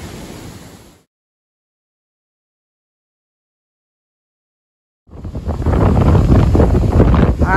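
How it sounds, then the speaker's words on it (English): Strong wind from Category 4 Hurricane Idalia roars straight into a phone microphone, buffeting it heavily. A short gust is followed by several seconds of near silence, then a loud, sustained blast. "We got a lot of wind."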